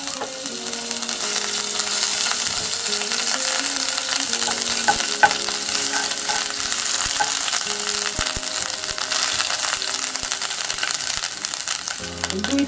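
Cumin seeds and chopped ginger fry in hot oil in a pan, giving a steady, dense sizzle and crackle with faint stirring scrapes throughout, close and unbroken.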